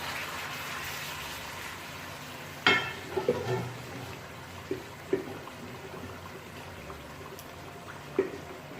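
Pressure-cooked meat (gosht) added to a pan with fried green chilies for cauliflower curry, giving a steady close sizzle and frying hiss with a few sharp pops and clatters from stirring.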